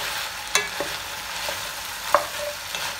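Vegetables sweating in a soup pot for lamb and vegetable soup, a steady soft sizzle with a few sharp spoon knocks against the pot, close and fairly quiet, no talking.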